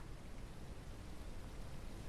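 Steady, soft rain hiss falls without pause in a proof-of-concept video game demo, a quiet, even wash of noise with no distinct drops or thunder.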